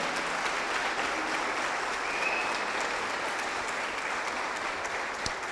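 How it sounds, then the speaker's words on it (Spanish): A church congregation claps steadily and fairly loudly in praise, a dense, even wash of applause holding for several seconds without pause. "Dale un aplauso fuerte al Señor."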